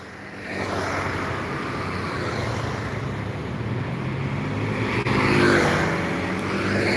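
A large tanker truck approaches and rumbles past on a road in Java, Indonesia, its engine noise swelling to a peak before easing off.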